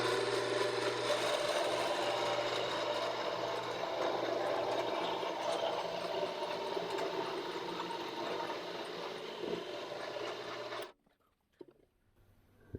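A Vevor 7x12 benchtop lathe turns a metal part with no tailstock fitted, giving a steady, loud mechanical whir with a constant low hum for about eleven seconds before it stops abruptly.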